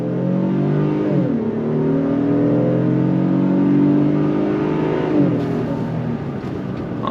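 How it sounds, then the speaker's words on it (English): A 2026 Honda Passport Trailsport V6 in sport mode accelerates hard on throttle from a roll, its engine note climbing loudly through a gear, dipping at a shift, then climbing again, heard close and alone. "we're gonna put it into sport mode, see how the gauges turn red, and we're gonna go on throttle from a roll"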